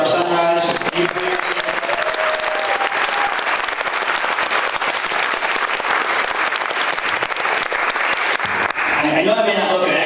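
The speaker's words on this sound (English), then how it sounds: "Can you give another round of applause to our Sunrise movement?" Sustained applause from an audience at a Green New Deal town hall in Dedham, Massachusetts, filling the room for most of the stretch, with a voice speaking over it at the start and end.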